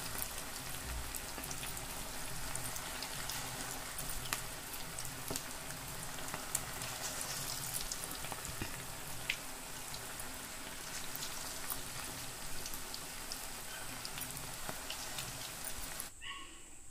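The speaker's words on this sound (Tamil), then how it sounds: "நல்லா பொரிஞ்சிக்கிட்டு இருக்கு சிக்கனு." Chicken lollipops made from wing pieces deep-fry in hot oil, giving a steady, dense crackle and sizzle with fine popping throughout, fairly close and even in loudness, with no talking.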